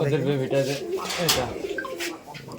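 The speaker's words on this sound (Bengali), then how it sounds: "এটা মাদি কবুতর" Pigeons coo at a pigeon farm, low, soft, rolling calls heard close by, mixed with someone talking over them.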